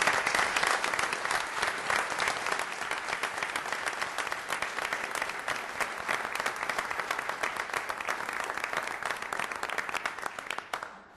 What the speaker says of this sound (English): And one more round of applause for this beautiful day.